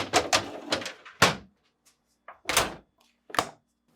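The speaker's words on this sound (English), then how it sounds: "Finally, reinstall the drawers by aligning and pushing back into place." A refrigerator's meat and deli drawer is slid and pushed back into its support housing, making a series of hard plastic thunks and knocks in uneven bursts, close by, with quiet gaps between them.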